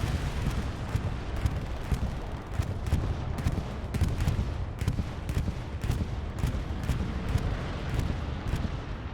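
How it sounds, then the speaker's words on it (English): Axis bombing run in the Hell Let Loose World War II game: a dense, continuous roar of explosions and gunfire with rapid sharp cracks throughout, loud and unbroken, no voices. "In comes the Axis bombing run."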